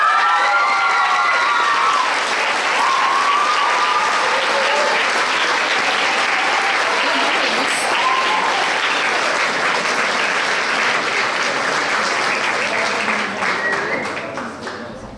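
A crowd at a regional school science fair finale applauding a gold medal project, sustained loud clapping with scattered cheers and children's shouts, tapering off at the end.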